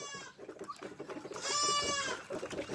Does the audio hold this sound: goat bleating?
yes